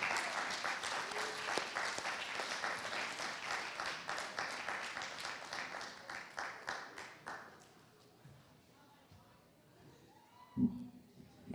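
Audience at a Black arts showcase claps loudly and steadily, the applause thinning out after several seconds into scattered claps and quiet, with a brief thump near the end.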